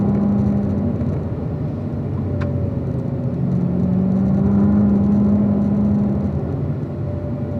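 A car driving on the Spring Mountain race track, its engine droning loud and close with a steady rumbling whir, the pitch sagging and then rising again as it slows for a turn and builds speed.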